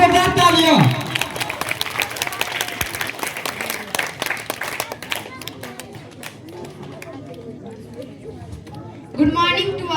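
An audience at a block-level school debate competition breaks into dense, loud clapping that lasts about five seconds and then thins out as voices talk and a speaker begins.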